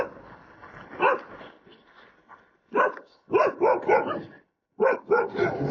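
Dogs bark in a series of close, loud barks with short whimpering yips between them, coming in bursts with pauses, during an outdoor climb in Kalimpong.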